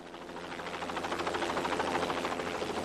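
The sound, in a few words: Jet Ranger helicopter flying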